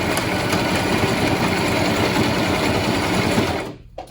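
A sewing machine stitches hair bundles onto a wig in a fast continuous mechanical whir, close and loud, then stops abruptly near the end.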